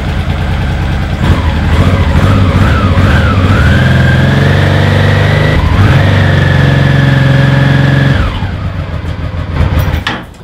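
A 59-horsepower, 200 kg motorcycle engine cranks, catches and revs up with a rising whine, holds a loud steady roar, then drops back toward idle.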